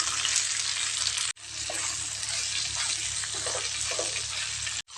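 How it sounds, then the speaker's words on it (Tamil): A spoon stirs okra kara kuzhambu seasoned with rock salt in a hot pan, producing a steady, loud sizzle with soft scraping that runs almost unbroken except for one brief cut. "சேர்த்துட்டு இதை ஒரு ஒரு நிமிஷம் போல் நல்லா கலந்து விட்டுடலாம்"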